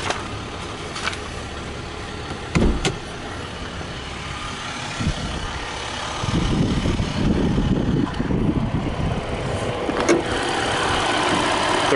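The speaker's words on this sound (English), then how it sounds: "Not a very loud engine for a diesel." A Ram 1500 Longhorn crew cab 4x4 with the turbo diesel EcoDiesel V6 runs steadily nearby, its low, fairly quiet rumble swelling slightly partway through, with a few small clicks and knocks over it.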